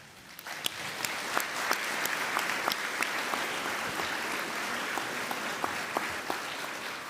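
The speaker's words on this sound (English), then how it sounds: "Another round of applause" Graduates and guests at a university graduation ceremony give a steady round of applause, dense clapping with sharp individual claps standing out, sustained for about seven seconds.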